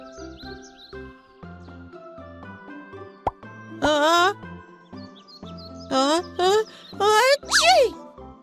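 A cartoon truck character, Lifty, from a children's show about Leo the truck on a farm, lets out a few short rising sneeze-like squeals amid music, with chirpy vocal effects near the end.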